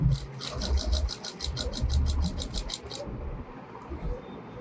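A sewing machine stitches a straight seam along a fabric edge, running in a rapid, even needle rhythm for about three seconds before it stops, close and fairly loud.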